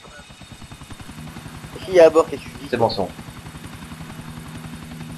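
A helicopter in GTA4, its rotor thumping in a fast, even pulse throughout at moderate volume while two people talk over it.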